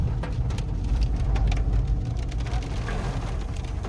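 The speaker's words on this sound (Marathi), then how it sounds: "पाऊस पण भारी पडलाय" Heavy rain falls on a car trip as a constant dense hiss with a strong low rumble underneath, steady and loud throughout.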